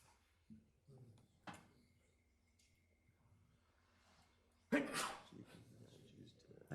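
A single loud sneeze bursts out in a municipal commissioners' meeting room, preceded by faint shuffling and murmuring, with room noise around it.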